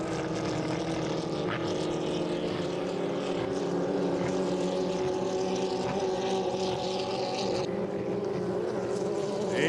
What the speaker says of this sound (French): Plein gaz, full speed for your winner, Michael Tremblay